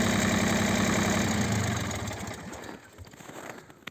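A Takakita (Ogawa) SB1502E snow blower engine runs steadily with a loud, throbbing mechanical drone, then the engine note drops and fades toward the end, leaving lighter rattling and a final click.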